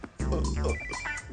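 A telephone rings once in a movie family scene, giving a short electronic ring burst under a voice.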